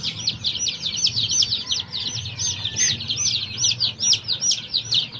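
Day-old chicks from a hatchery chirp continuously in a dense, overlapping chorus of high peeps, fairly loud and close, over a low background rumble with no talking.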